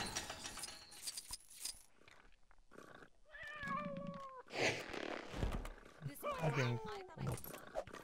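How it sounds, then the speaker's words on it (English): Cat meows and yowls in a toy-figure animated scene, with bright wavering cries rising over background voices and clatter, sounding fairly close. "I hear a cat."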